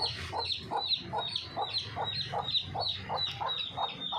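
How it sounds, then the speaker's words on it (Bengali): A hen that has wandered into a pigeon coop clucks in a steady, regular rhythm, about three calls per second, close by and moderately loud, with no talking over it. "কবুতরের ঘরে মুরগি ঢুকে গেছে"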